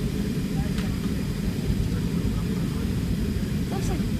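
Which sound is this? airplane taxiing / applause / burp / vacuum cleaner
airplane taxiing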